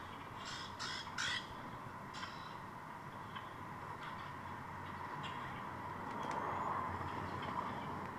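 Crows and other birds squawk in short, fairly loud bursts early on, then scattered fainter calls over a steady background hum, with no talking.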